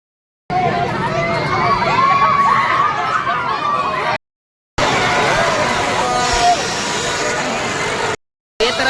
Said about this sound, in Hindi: मड़ई मेला में जबरदस्त माहौल है, भीड़ भाड़ भी एकदम है।